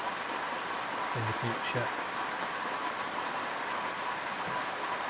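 Steady rain falls on the roof of a timber-framed building, a dense, even hiss throughout, with a few brief words spoken over it.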